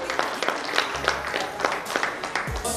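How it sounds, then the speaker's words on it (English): An audience at a bartending academy event gives a round of applause, a fairly quiet but steady spread of clapping with a few sharper hits and brief low murmurs. "Give them a round of applause"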